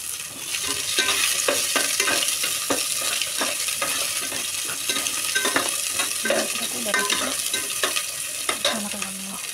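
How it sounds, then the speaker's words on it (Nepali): Cumin seeds and chili frying in hot oil, with a loud continuous sizzle and many sharp crackles and pops, alongside stirring scrapes, close up with no talking. "जीरा पड्के खुर्सानी हालेँ है।"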